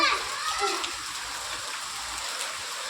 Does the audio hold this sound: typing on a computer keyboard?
no